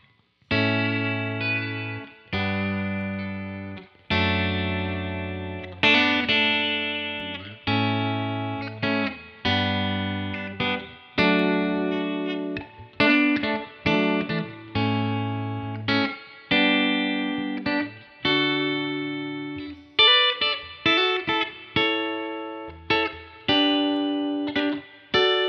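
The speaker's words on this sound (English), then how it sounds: "And we do some chords on the bridge pickup." Electric guitar chords played on the bridge pickup of a Fender Hot Rod Deluxe amp, strummed in a steady series of ringing, sustained chords with clear attacks and decays, played alone without talk.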